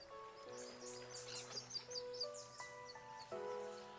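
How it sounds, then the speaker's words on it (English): Birds chirping in the video game Persona 4 Arena Ultimax, a soft scatter of short tweets over a faint musical background, quiet and continuous. "The chirping of the birds and the sound of the waves echo on forever."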